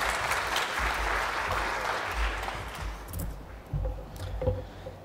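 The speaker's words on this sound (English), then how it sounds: "Round of applause, please, for Peter De Bruyne." Audience applause after a speaker is introduced on stage at a tourism conference, a dense sustained clapping from a crowd that thins and fades toward the end with a few scattered claps.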